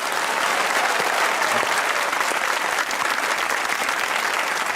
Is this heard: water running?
no